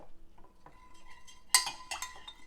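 A utensil scrapes and clinks against a bowl while coconut aminos are stirred into a plant-based vegan salmon mixture, quiet and close, with a sharper clatter partway through.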